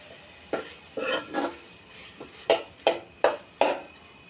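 Mashed raw banana bharta is stirred and dry-fried in a pan, heard as a string of separate scraping and clinking strokes of a spoon against the pan, about eight in four seconds, over a faint, low sizzle.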